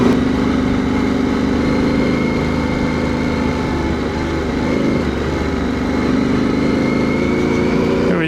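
Yamaha Tenere Extreme motorcycle engine droning steadily while riding through sand on a trail, a loud continuous mid-pitched hum with slight shifts in revs, no voices.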